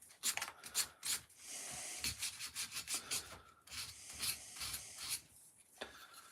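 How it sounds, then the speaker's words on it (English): A wooden carving is hand sanded in uneven back-and-forth strokes, a close, dry rasping rub that starts and stops repeatedly and is heard alone. "I'm going to have to sand this off."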